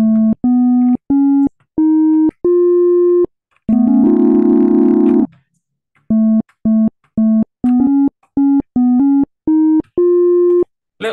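Pure electronic tones a major second apart, sounding as a quick series of short, evenly spaced beeps with one longer sustained chord in the middle, loud and clean with silent gaps between.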